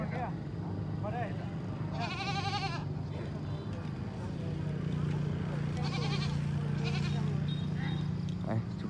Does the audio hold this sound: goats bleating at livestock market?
yes